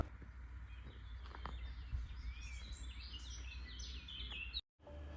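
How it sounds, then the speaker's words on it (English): Birds chirp and sing all around in a nature reserve near Rome, bright overlapping calls over a steady low outdoor rumble, continuous through the stretch with a brief cutout near the end. "And a sign showing just how close we are to Rome, and birds singing all around us again."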